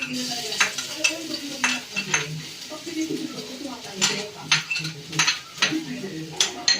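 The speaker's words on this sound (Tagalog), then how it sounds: "Medyo mainit na din naman siya. Lagay na natin ang sibuyas." Onion dropped into hot oil in a pan sizzles and crackles, with stirring and utensil clinks against the pan through the clip while someone talks over it.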